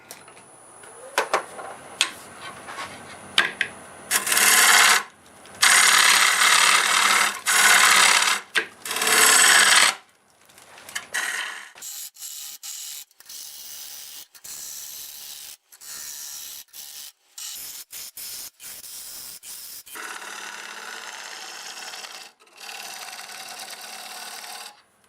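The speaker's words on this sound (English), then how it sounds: "I'm going to go ahead with my 1/2 inch bowl gouge and start following the wall down" A half-inch bowl gouge cuts a natural-edge English walnut crotch bowl spinning on a lathe, producing loud rough scraping and rasping bursts that alternate with quieter steady cutting and the lathe's hum, close up.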